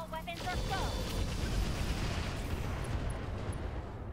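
Mech weapons firing in the game Roguetech, a heavy, rumbling barrage of booms that sustains over several seconds, with a brief tonal chirp at the start.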